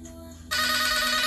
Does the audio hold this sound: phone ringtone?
yes